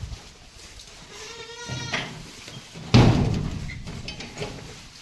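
A Beetal goat bleats nearby, one drawn-out wavering call followed by a louder, harsher bleat, set against faint farmyard background noise.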